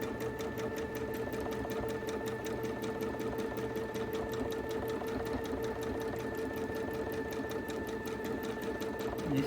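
A sewing machine stitches quilt fabric in a steady, even whir with a fast mechanical rhythm, running at moderate volume without a break and with no voices over it.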